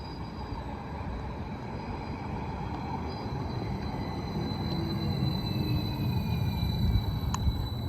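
A Caerphilly-service passenger train, unit 756 003, idles and rumbles at Grangetown station during rush hour, a low steady engine drone with faint high whines and a short sharp click near the end, no talk.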